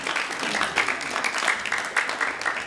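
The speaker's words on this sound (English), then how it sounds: "So campers, will you please give your families a round of applause?" Applause at a music camp jazz concert as campers clap for their families, a moderate crowd of hands clapping with a few sharper claps standing out.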